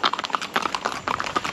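Horse hooves clip-clop in a steady, close rhythm during a ride through nature, one rider on horseback among a traveling family group, hoofbeats clear and fairly loud with no talk.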